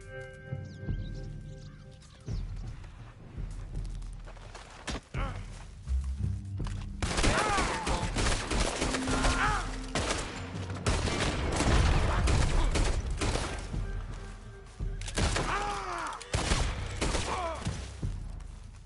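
Gunfire in Red Dead Redemption 2, a loud near fusillade of shots and thuds mixed with horse hooves and other game noise, continuing for most of the stretch.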